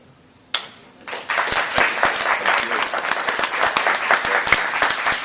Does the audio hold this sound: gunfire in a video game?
no